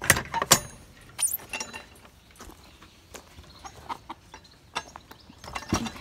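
Chickens inside their shed, soft scattered clucks and rustling close by, faint and irregular, with a few sharper bursts and scuffs among them.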